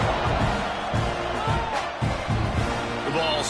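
Stadium crowd at a college football game between Texas A&M and LSU, a steady loud roar and murmur of many voices filling the clip, with brief swells and no distinct individual words.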